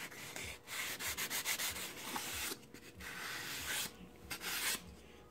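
An old sanding sponge lightly rubs along the edge of a foam model wing in short, repeated scratchy strokes. The passes are close and quiet, separated by brief pauses.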